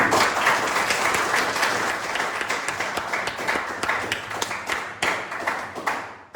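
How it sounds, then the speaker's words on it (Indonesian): Students in a classroom clap together in steady, close applause that lasts the whole stretch, gradually thinning toward the end with individual claps standing out. "berikan tepuk tangan"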